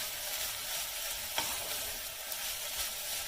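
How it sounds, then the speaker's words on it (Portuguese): A pastel filling frying in a pan gives a steady, faint sizzle with a few soft stirring scrapes, heard alone without any talk. "Então eu vou fritar."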